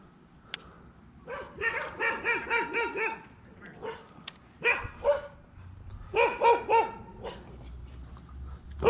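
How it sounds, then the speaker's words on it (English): Dogs barking near water, repeated rapid runs of yappy barks in two clusters with short gaps, fairly close and loud. "Puppy dogs."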